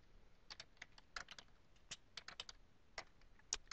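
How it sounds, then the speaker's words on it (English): Quick, irregular clicks of fingers typing on a computer keyboard, close and quiet, with short pauses between bursts of keystrokes. "as I'm typing in, I'm making some typos and kind of doing backspace and kind of fixing things"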